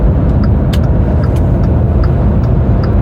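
A car cruises along a highway, its steady loud road and engine roar filling the cabin without a break, with faint higher ticks over the rumble and no talking.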